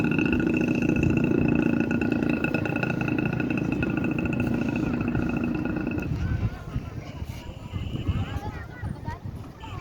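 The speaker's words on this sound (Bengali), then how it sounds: "সৌদি আরবের মোটর সাইকেল অনেক শব্দ" A motorcycle engine on a street in Saudi Arabia drones loudly and steadily for about six seconds, then drops away as people keep talking over the background.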